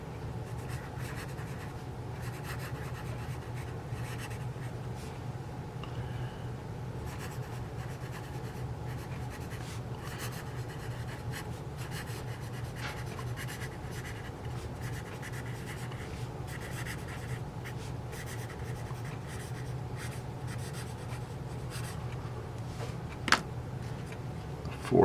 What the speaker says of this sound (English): I'm going to try this 2B here, and we'll try doing a little bit more writing